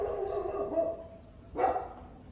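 A dog gives two short vocal bursts, a drawn-out bark-like sound followed by a sharper bark about a second later, close by with no speech over it.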